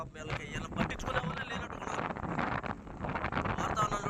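Strong cyclone wind gusting hard across open country near a fish pond, a continuous roaring buffet against the microphone, with someone talking over it throughout.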